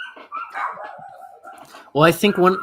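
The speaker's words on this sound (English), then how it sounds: "I don't know if you can hear the dogs in the background." A dog barks and yips in the background beneath a person speaking, with a louder burst of barking near the end.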